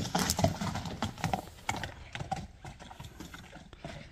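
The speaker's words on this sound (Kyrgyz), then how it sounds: "Бир чаптыралы, чуркаталы" A racehorse gallops with rhythmic, quick hoofbeats that are fairly close at first and then fade, with no talk over them.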